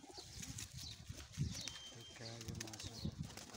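Pigeons at a loft coo in low, repeated throaty calls, with brief soft wing flutters mixed in and a steady background murmur.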